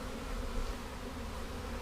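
Honeybees drone in a dense, steady hum from a hive during a swarm inspection, an unbroken buzzing chorus that is soft but close, with no voices.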